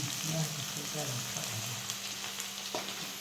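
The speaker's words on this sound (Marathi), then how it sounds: "अजून लालसर चांगला भाजायचा कांदा" Onions frying in a pan and browning, a faint steady sizzle with a few soft scraping touches, close by but quiet, with low background murmur.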